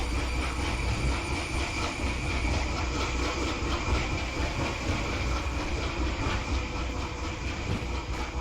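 Steady rail rumble and wheel noise from a DRG Class 89 steam switcher shoving a caboose along track in Derail Valley, a continuous mid-level roll with faint squeal and no break across the stretch.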